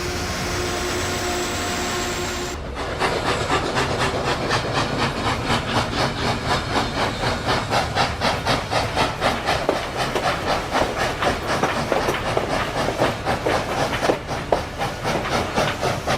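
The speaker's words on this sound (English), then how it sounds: "It's another rail grinder repairing imperfections along the rails." A rail grinder train grinding imperfections off the rails gives a loud, continuous harsh grinding roar with a fast regular pulsing, starting abruptly after a quieter hum and holding steady, close by.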